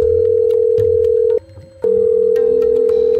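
A steady electronic telephone tone hums loudly, cuts out briefly, then resumes alongside fainter lower tones.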